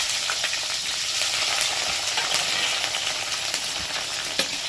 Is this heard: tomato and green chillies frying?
yes